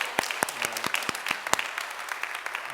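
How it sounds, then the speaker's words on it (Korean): Church worshippers give another round of applause to God: scattered hand claps, some falling into a loose beat, over a faint sustained tone in a small hall, with no speech. "우리 다시 한번 크게 하나님께 영광의 박수를 했습니다"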